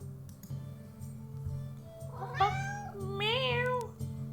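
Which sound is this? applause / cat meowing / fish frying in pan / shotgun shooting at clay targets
cat meowing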